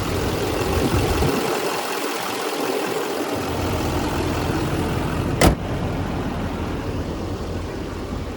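A 2016 GMC Sierra 3500HD Denali's 6.6-liter turbo diesel V8 idles with a steady, even rumble heard close by, broken by one brief sharp click midway.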